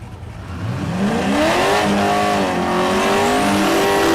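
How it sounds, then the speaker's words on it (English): Duramax diesel-powered Chevelle launching at a drag strip in the 9-0 class, a loud engine rising and accelerating hard in rising pitch sweeps, close and sustained for the whole span. "Duramax Chevelle. It looks like it's maybe just super duper fat, but no, it's got a Duramax in the 9-0 class."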